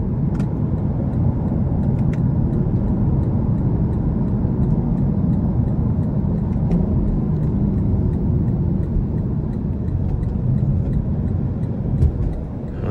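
A 2021 Lexus LC500 Convertible accelerates onto an interstate using its paddle shifters, giving a loud, sustained engine roar with road and wind noise that stays steady throughout.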